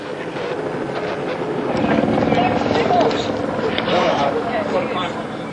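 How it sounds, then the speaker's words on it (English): Police helicopter flying overhead during a street arrest, a steady loud rotor and engine roar with wind buffeting that swells in the middle, voices talking under it. "The helicopter guides him to the exact spot."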